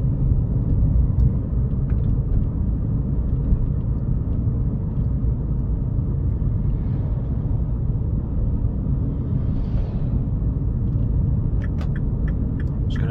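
Seat Leon driven at low town speeds, heard from inside as a steady low rumble of road and engine with no sharp sounds and no talking.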